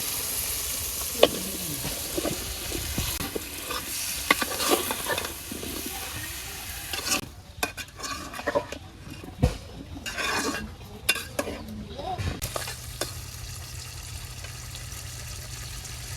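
Vegetables and shrimp frying in a pan: a hissing sizzle broken by the scrape and clatter of a utensil stirring against the pan, then settling into a quieter, steady fry near the end.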